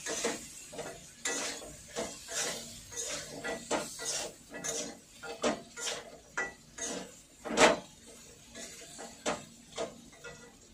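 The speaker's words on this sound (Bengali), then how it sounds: "এটা ভেজে নিই।" Food frying in a pan while a utensil stirs and knocks against the metal, making a series of close clinks and scrapes over a low background sizzle, with one sharper clack partway through.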